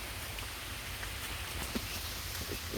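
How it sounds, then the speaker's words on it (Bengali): Heavy rain pours steadily outside in a Bangladeshi village, a continuous even hiss of drops on surfaces with a few louder isolated drips near the end. "অনেক বৃষ্টি নামছে বাইরে"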